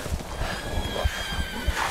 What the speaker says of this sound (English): Okay, they ride horses.